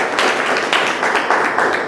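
A church congregation claps together at a pastor's urging, a dense, steady wash of many hands close by, with rhythmic surges roughly every half second.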